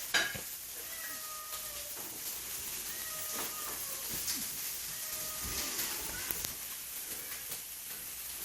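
A house cat meows in a home kitchen during cooking, several short cries spread over a continuous background hiss like sizzling food.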